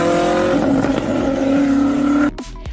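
Gesco Absolute hypercar, a 1,600-horsepower car said to reach 482 km/h, roaring with a steady high engine drone that holds close and loud, then cuts off abruptly into brief sharp transients near the end.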